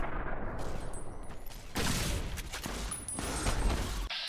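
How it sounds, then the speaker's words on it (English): Gunfire rattles in the video game Fallout: New Vegas, with repeated loud shots and bursts that come in uneven clusters and carry on with only short gaps between them. "I don't know why you're shooting, but fine. I think keep shooting away"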